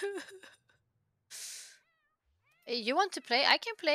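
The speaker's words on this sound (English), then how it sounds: "That's a cat!" A cat meows in a video game, a short mewing call between bursts of a nearby person's lively talk, with a brief breathy hiss just before it.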